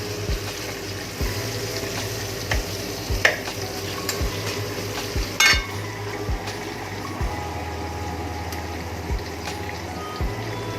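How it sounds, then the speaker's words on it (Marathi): Chopped onions fry in a pan with a steady sizzling hiss and a low, even background, while sharp taps of a spoon stirring them recur about every second. "इथं कांदा परतायला ठेवते"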